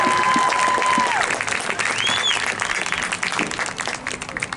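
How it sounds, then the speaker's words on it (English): An audience at a school marching band concert applauds the varsity band, a sustained round of clapping that fades toward the end, with a few whistles and cheers in the crowd. "So another round of applause for the varsity band."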